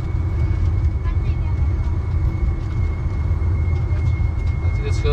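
Sightseeing shuttle vehicle driving through a large scenic area, a steady low rumble and road noise with wind, continuous and close throughout.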